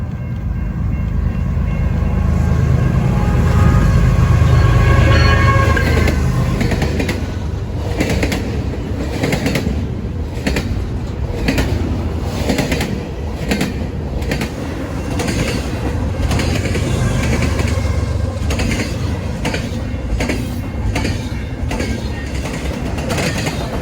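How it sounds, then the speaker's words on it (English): A fast northbound intermodal freight train rolls over jointed rail at Lake Street, loud and close, with a steady rumble and repeated clickety-clack of wheels striking rail joints throughout. "Now we have a speedy northbound intermodal going over the jointed rail at Lake"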